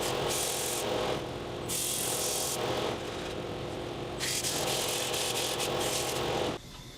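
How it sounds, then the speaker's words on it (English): A turned guitar rosette ring is sanded with 100 grit sandpaper, giving a steady, close hissing rasp that swells and eases in long passes before stopping suddenly near the end. "I then do a final cleanup with some 100 grit sandpaper"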